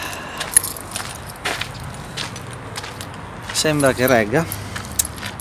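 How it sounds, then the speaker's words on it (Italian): Keys on a keychain jangle in brief metallic bursts while being adjusted inside a camper, with a louder flurry near the end and a voice talking briefly. "qua il portachiavi, ma lo devo sistemare un po' meglio"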